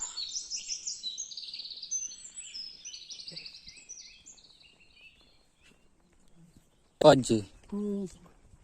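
Busy high-pitched bird chirps and twitters fill the first few seconds at a quiet hilltop Ganpati temple near Dapoli, then fade; a person's voice speaks briefly near the end.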